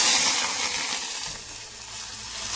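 Milk poured into hot ghee in a pan for makhana kheer sizzles and hisses, loudest at first and then settling into a softer, steady fry with light stirring.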